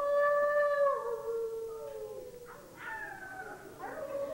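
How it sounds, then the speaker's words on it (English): A lone coyote howls on a dark night, long wavering, falling cries followed by shorter yipping calls, fairly distant and heard alone against quiet. "Coyotes howling off in the distance."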